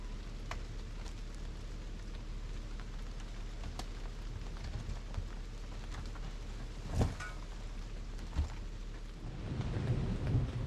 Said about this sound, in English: Still got a little bit of thunder. The thunder is not too bad. The rain has picked back up a little bit